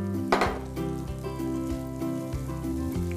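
Cubed butter melts in a heated pan over a fire, giving a continuous, even sizzle with a brief crackling burst near the start, all over soft tonal background music.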